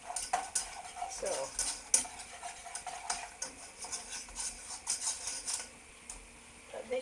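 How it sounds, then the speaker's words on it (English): A whisk beats macaroni cheese sauce in a pan, giving quick, close metallic scraping and clinking strokes in uneven bursts, with a short lull near the end. "Just keep whisking, it shouldn't go lumpy"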